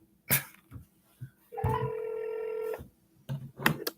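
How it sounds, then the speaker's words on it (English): A telephone line sounds a steady electronic tone of just over a second while a call is placed to the Canadian Space Agency, faint and quiet, with a few soft clicks and knocks before and after. "Okay, let's phone these guys."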